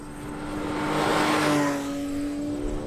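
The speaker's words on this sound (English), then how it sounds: "That glorious sound you hear is a 4-liter dry-sump boxer 6-cylinder engine." A Porsche GT3 RS with a 500-horsepower 4-liter dry-sump boxer six-cylinder engine at Gingerman Raceway in South Haven, Michigan, roars past, its steady high engine tone swelling to a peak and then fading as it goes by.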